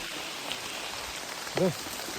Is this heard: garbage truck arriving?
no